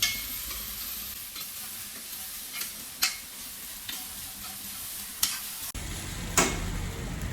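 Onion poha, kanda pohe, being stirred in a pan, a steady close sizzle broken by light scrapes and clicks of the spoon against the metal, with no talk.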